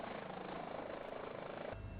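A helicopter in a flight simulator video game gives a steady, continuous rotor and engine drone that holds at an even level throughout, with no voices over it.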